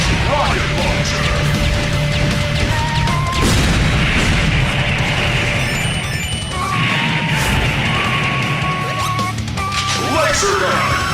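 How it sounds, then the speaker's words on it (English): Rocket launcher fire and explosions in Metal Slug Awakening during boss fights, repeated crashing booms over dense, loud game music and effects, with a voice calling out in the background. "Rocket launcher!"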